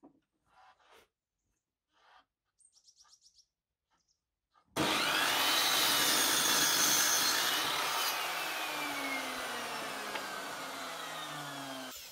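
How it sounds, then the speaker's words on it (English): After a few quiet taps and small sounds, a miter saw bites into wood, cutting a 45-degree mitered support bar, with a loud, sustained whine and grinding rasp that slowly tapers. "And I'm now cutting two support bars with mitered edges, each at 45 degrees"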